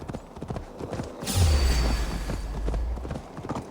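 Galloping horse hooves in Assassin's Creed Valhalla, a steady rapid clip-clop that swells from about the midpoint into a loud, close run, with a brief voice early on.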